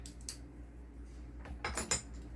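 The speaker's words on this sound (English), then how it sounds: "And put your knife away." A kitchen knife is set down and put away, giving a few faint, brief metallic clinks and a small clatter near the end, with no talk.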